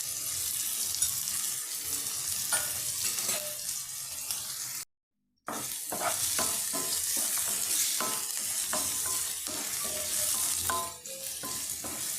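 Onions fry in hot oil in a pan on a gas stove at medium flame, giving a steady, dense sizzle with repeated scraping stir strokes and one brief silent gap midway.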